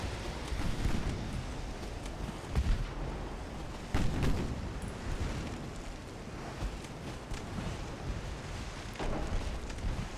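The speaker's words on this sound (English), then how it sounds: "I want to see the ship go up in a huge explosion." Naval gunfire booms and explosions roll through a video game battle between warships, with heavy thuds and low rumbles recurring over a continuous roaring backdrop.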